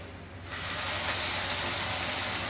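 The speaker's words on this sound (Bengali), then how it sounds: "তো আমি এখানে একটু জলের ছিটা দিচ্ছি" Water splashed into a hot pan of sauce while cooking diet chowmein sets off a sudden loud, steady hiss of steam after a brief quieter moment, continuing without pause.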